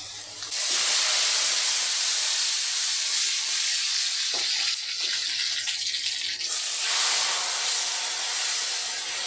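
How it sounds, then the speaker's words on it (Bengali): Dal tempering of onion and cumin in hot oil gives a loud, hissing sizzle that bursts up suddenly, dips briefly near the middle, then surges again and holds steady, with no voices. "এই যে আমি কালার ডালে বাগার দিচ্ছি এগুলো তো শুধু পেঁয়াজ আর জিরা"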